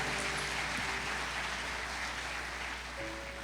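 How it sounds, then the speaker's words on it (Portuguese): A steady wash of congregation applause rolls through a Sunday church service, unbroken and fairly distant, layered over a low constant hum from the room's sound system. "pode aplaudir o Senhor"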